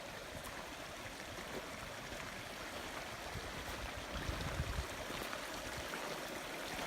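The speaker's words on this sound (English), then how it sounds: "We come and we cross the stream again, or creek." A mountain stream on a hiking trail rushes steadily at moderate distance, an even wash of flowing water with no voices over it.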